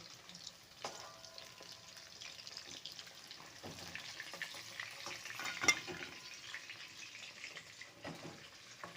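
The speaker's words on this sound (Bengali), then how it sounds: "এবার দ্বিতীয় ব্যাচ ভেজে নিচ্ছি" Steady crackling and sizzling of a batch of chicken pakoras frying in hot oil, close by and fairly quiet, with a few sharper pops and clinks, and no voices.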